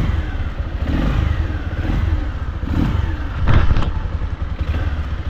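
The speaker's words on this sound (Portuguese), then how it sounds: "Vou ligar a moto aqui" A 2008 Honda CG 125 Fan motorcycle engine idling and revving nearby, a rough low rumble with a louder rev burst partway through, no speech.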